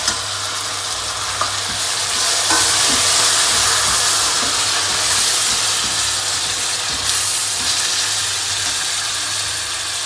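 Chopped tomatoes hit a hot pan of curry leaves and oil, giving a loud, steady frying sizzle and hiss that runs unbroken, with faint stirring clicks now and then.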